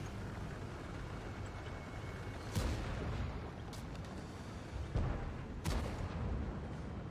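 Tank cannon fire in the game Global Tank League, several sharp booming shots over a steady battle rumble, with no voices.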